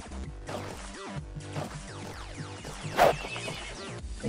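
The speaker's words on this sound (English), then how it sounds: "I keep hearing you neigh" A horse in the video game Block Story neighs with a rising, wavering whinny over a busy game soundscape, with a sharp burst partway through.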